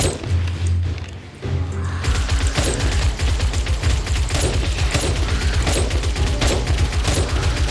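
A machine gun firing in the zombie survival game 7 Days to Die, a loud rapid sustained burst of shots after a brief quieter lead-in, with no talking.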